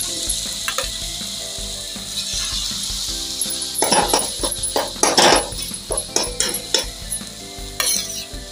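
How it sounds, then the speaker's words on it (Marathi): Mashed eggplant with spices sautés in oil, a soft sizzle at first, then louder scraping and stirring strokes in an irregular rhythm from about midway, close by. "फक्त तेलावरती परतून घ्यायचं."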